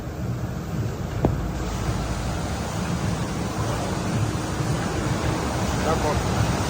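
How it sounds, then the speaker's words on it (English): Water pouring into a container in a compost screening system, a constant rushing, splashing wash of noise at steady volume with a brief click near the start. "Water entering the container over here."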